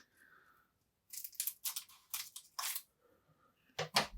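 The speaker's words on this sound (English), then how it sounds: "I will use the scissors and hope I don't cut anything." Scissors snip and tear through the packaging of a NASCAR Donruss trading card box, a run of close, sharp cutting and crunching bursts after a quiet start.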